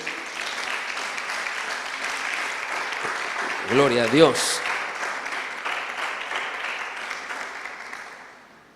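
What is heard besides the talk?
applause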